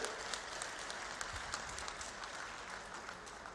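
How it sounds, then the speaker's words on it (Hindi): Audience applause welcoming India's Union Home Minister at a public launch event, a steady, dense wash of clapping with no break through the whole stretch, heard from a distance at fairly low level. "एक बार जोरदार तालियां बजाकर आप सब लोग स्वागत करेंगे"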